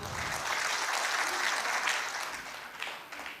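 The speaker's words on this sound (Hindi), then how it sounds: "ये सच्चाई है सर, ताली बजनी चाहिए" An audience at a Hindi comedy poetry show claps steadily for several seconds, a dense wash of applause that holds fairly even and then tapers slightly.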